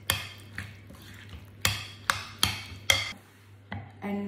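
Food is mixed with oil in a bowl, giving a close run of about eight sharp knocks and clatters at an uneven pace, each fading quickly, with no voices.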